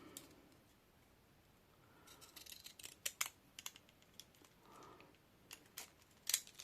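Small scissors snipping paper for scrapbooking, a quiet close run of sharp crisp cuts and light ticks, with brief rustles between snips.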